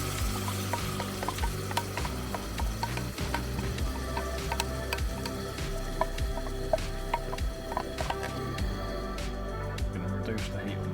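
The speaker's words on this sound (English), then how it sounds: "Chopped tomatoes here with garlic, olive oil. So throw that in." Chopped tomatoes from a large tin, mixed with garlic and olive oil, go into a hot pan at a campsite, giving a continuous close sizzle with wet stirring and squelching.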